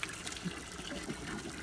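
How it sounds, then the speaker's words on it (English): Water gushes steadily while horses' water is filled at an animal sanctuary, a continuous close splashing pour with no voices over it. "we now need to fill up the water actually"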